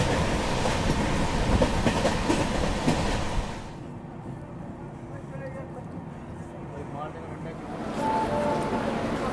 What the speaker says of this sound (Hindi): तो यहाँ पर अपनी ट्रेन पहुंच चुकी है नासिक रोड रेलवे स्टेशन।